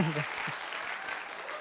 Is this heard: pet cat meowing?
no